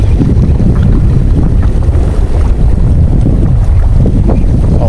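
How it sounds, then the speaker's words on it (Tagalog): Strong, steady wind buffeting the microphone on a breakwater in Manila Bay, a continuous low roar with gusty rumble throughout. "Malakas ang hangin."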